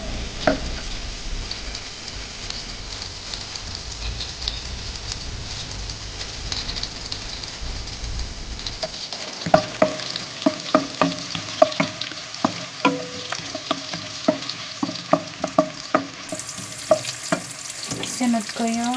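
Onion frying in butter for buttered shrimp, a continuous soft sizzle under repeated clinks and scrapes of a spatula stirring the pan, with the stirring growing busier partway through.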